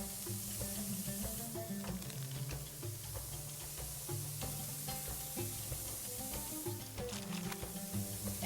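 Iraqi ground meat kabab patties sizzle steadily in a hot pan, a continuous close frying hiss with small crackles and faint ticking underneath, no talking.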